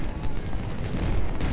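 A full volley of musket fire in Ultimate General: Civil War, heard as a dense, rumbling boom of massed shots rolling together in one heavy, sustained blast.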